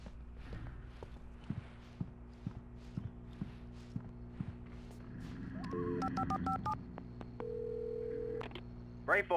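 Telephone in the Alan Wake video game, heard at a gas station: keypad tones and a held dial tone come up midway, following a run of regular footsteps. Low game ambience hums underneath throughout.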